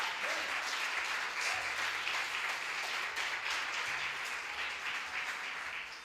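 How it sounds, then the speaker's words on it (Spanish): A church congregation breaks into sustained applause during a sermon, dense steady clapping from many hands filling the room for several seconds. "Dale palmas."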